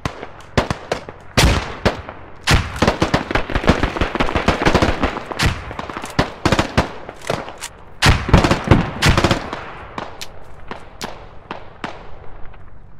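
A mounted gun in a video game squad battle fires loud, close bursts of rapid shots in irregular clusters, with brief pauses between volleys and a quieter tail.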